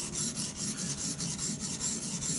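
A steel blade rubbed back and forth on a water stone, producing a steady rhythmic rasping scrape with even strokes, close and moderately quiet, with no voices.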